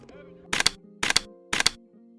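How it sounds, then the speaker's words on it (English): A photographer's camera shutter fires at a football fall camp, three evenly spaced bursts of crisp mechanical clicks about half a second apart, close and fairly loud over quiet background. "so you know I had to bang that shutter."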